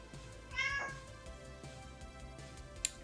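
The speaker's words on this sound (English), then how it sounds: "That was my cat agreeing." A single short cat meow sounds nearby, rising briefly over a quiet background hum.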